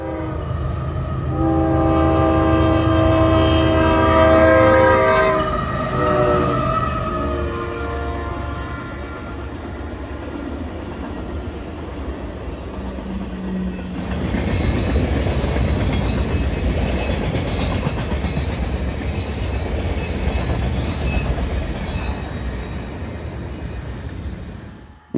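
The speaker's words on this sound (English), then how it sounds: "This was a speedy southbound mixed freight." Southbound mixed freight train on the Kansas City Southern line in North Louisiana, crossing a bridge over Caddo Lake: a loud horn with chords sounding early on, then a steady roar of rolling cars and wheel clatter close by.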